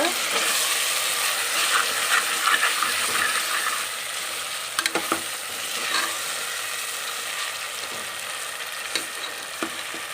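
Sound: ginger garlic paste frying in a pan

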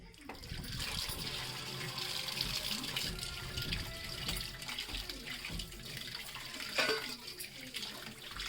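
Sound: water running while washing fish with turmeric

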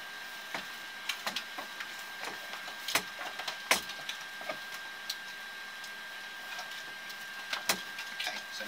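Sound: caving rope being pulled through by hand

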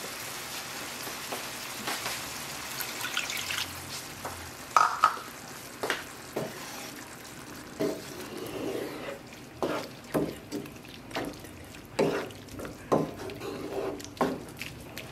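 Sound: food boiling in a pot

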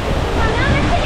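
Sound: waterfall in Iceland, walking behind it

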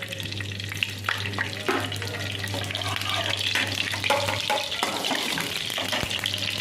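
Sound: cumin sizzling in heated desi ghee

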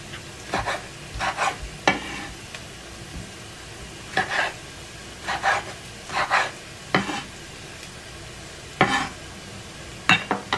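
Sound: onion frying in a pan

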